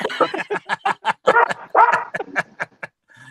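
A dog barks in a rapid series of short, close yaps with a few whiny, drawn-out notes mixed in.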